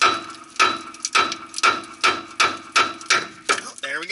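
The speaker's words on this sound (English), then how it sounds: "I may need to get a heavier hammer" A hammer pounds on the tie rod stud of a 1988 Ford F-150 2WD during steering tie rod replacement, with about nine loud, evenly spaced metallic blows and no talking.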